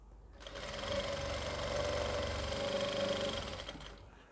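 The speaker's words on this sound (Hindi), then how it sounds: "इसी तरीके से ये पूरी सिलाई लगा लूँगा" A sewing machine runs steadily, stitching elastic onto a palazzo skirt, starting after a brief pause and holding a continuous close whir for about three seconds before stopping.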